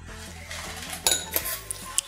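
A fork mashes banana with two spoonfuls of oil in a bowl, giving soft, scattered clinks and a few sharper taps against the bowl, fairly quiet and close.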